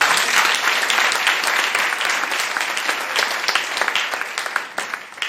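A church congregation at a Sunday service applauds in a loud, dense burst of clapping that continues throughout and thins slightly toward the end.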